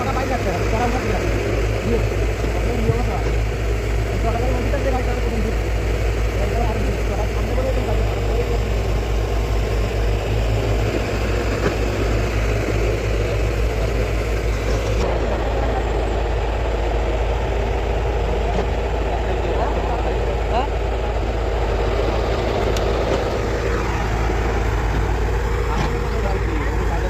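Hyundai Robex excavator stuck in mud, its diesel engine running in a steady loud low drone throughout, close by, with a voice talking over it.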